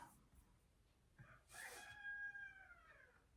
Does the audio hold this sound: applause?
no